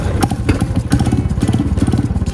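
A Royal Enfield Bullet motorcycle engine running close by, with a deep, rapid, even thump of exhaust pulses throughout the short stretch and no talking.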